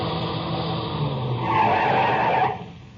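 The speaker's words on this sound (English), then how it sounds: "I heard the whine of a car coming over the rise in the rough road" In a 1950 radio drama, a car on a rough road skids to a stop with a loud tire squeal rising over the engine rumble, then cuts off and fades, with no talk.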